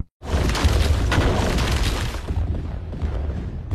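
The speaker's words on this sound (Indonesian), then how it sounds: "terdengar ledakan dari luar" A loud, deep boom rolls out and rumbles on for several seconds, heavy and continuous, with no talking.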